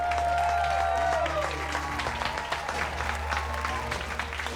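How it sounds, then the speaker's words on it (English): A studio audience in a televised cooking competition kitchen breaks into sustained applause, dense clapping filling the room from start to finish over a low steady hum. "Give yourselves a round of applause"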